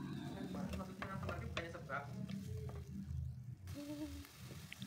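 Cucumber and bean sprouts are stirred and tossed in a frying pan, a faint, close sizzle with scraping clicks of the utensil, mixed with a soft voice talking.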